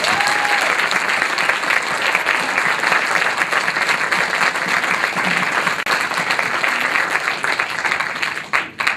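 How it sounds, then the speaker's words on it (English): An audience applauds Sarah Rizza at a university last-lecture event, loud sustained clapping from a crowd filling the room, tapering off near the end. "could we please applaud Sarah Rizza one more time?"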